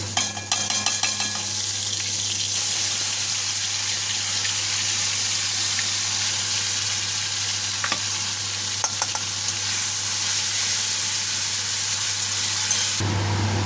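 Spice paste sizzling in hot oil for a tangra fish curry, a loud steady hiss and crackle of frying that runs continuously before cutting off abruptly near the end.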